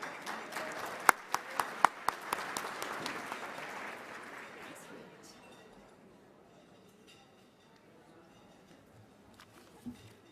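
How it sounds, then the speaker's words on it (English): An audience applauds at a luncheon, with a burst of clapping and a few sharp individual claps that fades gradually into quiet room noise, followed by a brief faint knock. "Give her another big round of applause, everybody."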